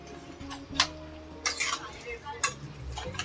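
Chicken pieces are mixed with spices by hand in a bowl, giving a few sharp clinks and soft scraping knocks at irregular intervals over a steady tonal background hum.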